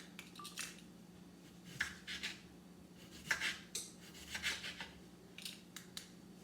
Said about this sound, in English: So I'm just gonna cut my cucumber.